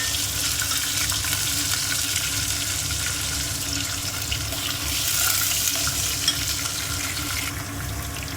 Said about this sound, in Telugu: పల్లీలు ఫ్రై అవుతుందండి.